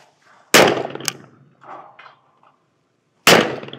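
A shotgun fires at clay targets outdoors: two loud, sharp, close blasts about three seconds apart, with faint clinks and rustles in between.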